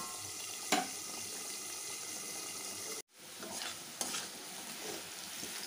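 Potatoes frying in a pan with onion, garlic and ginger paste and chopped tomato masala give a soft, continuous sizzle with scattered scraping clicks, broken by a brief silent cut midway.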